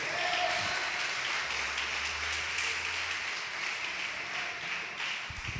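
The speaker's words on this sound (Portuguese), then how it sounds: "Pode aplaudir." A church audience breaks into sustained applause, many hands clapping densely and evenly at a steady loudness for several seconds.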